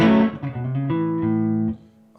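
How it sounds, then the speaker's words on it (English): Clean electric guitar through an amp with its built-in reverb, a short melodic run of single notes ringing one after another and fading into a reverb tail. "I'll have the reverb on the amp."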